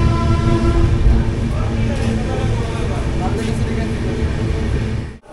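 Poorva Express 12303 on its Howrah to New Delhi run, nearing Bardhaman: a continuous loud rumble of the moving train with steady rolling and rattling noise and a few brief higher squeals, fading slightly near the end.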